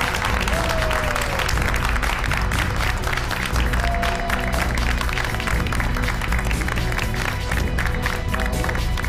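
An audience at a televised cooking competition in Uruguay applauds the cooks after service, producing dense, sustained clapping that stays loud and steady throughout, with faint cheering and voices mixed in.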